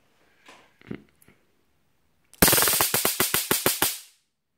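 A loud burst of rapid electric crackling from an SK-700 stun gun, about ten sharp snaps in quick succession, preceded by a few faint, brief rustles.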